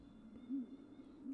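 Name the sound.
owl hooting in video game Tiny Bunny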